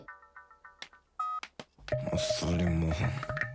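A telephone number is dialed with a quick run of short keypad tones, then a brief ring signal, followed by louder film music and background noise.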